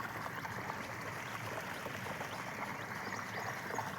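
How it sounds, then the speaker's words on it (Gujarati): Irrigation water runs steadily through a black sesame field, a continuous close trickling, gurgling flow with no speech over it. "એ કાળા તેલ છે, એમાં પાણી ચાલુ છે. આપણે પાણી ચાલુ કરી દીધું."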